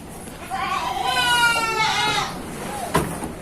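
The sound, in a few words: goats bleating on a goat farm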